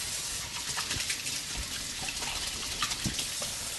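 Tap water runs steadily into a kitchen sink while hands are washed under it during butter chicken preparation, a continuous even gush with a few small splashes and no talking.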